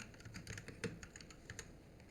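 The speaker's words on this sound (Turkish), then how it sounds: "Klavye sesi çok geliyorsa şey. E, yani switchli klavye aldım ondan biraz fazla gelebilir arkadaşlar." Mechanical-switch computer keyboard typed on in quick, irregular clicky keystrokes, close and fairly quiet, with no voices.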